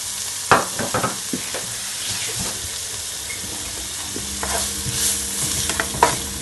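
Stew chicken with fresh thyme and seasoning sautéing in a pan for Jamaican rasta pasta, a steady sizzle broken by clattering spoon strokes as it is stirred, close and fairly loud with no voices.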